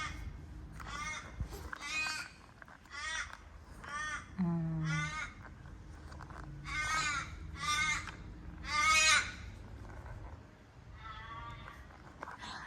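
A crow caws in a series of harsh, repeated calls at a moderate distance, arriving in uneven bursts, with a brief voice and faint background noise between them.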